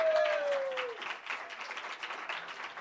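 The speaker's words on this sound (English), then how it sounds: "So round of applause for those people that are about to come up" Audience at an open mic night gives a round of applause for upcoming performers, a short spell of crowd clapping that carries steadily after a brief vocal tone at the start.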